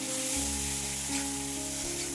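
Boiled moth beans drop into hot spiced masala of red chilli powder and turmeric, setting off a loud, continuous sizzle with low crackling and a stirring scrape, heard close and alone.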